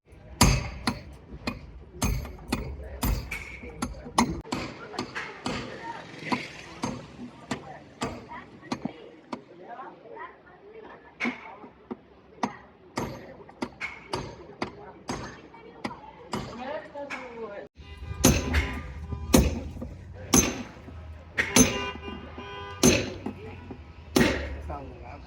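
A hammer striking a Mehran car's body panel to push out a dent, with repeated sharp metallic blows in irregular rhythm, close and loud, louder toward the end, with voices between the strikes.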